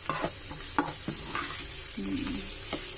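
Tomato and bitter gourd pieces frying in a pan and being stirred, a close steady sizzle broken by several sharp scrapes and clacks of the spoon against the pan.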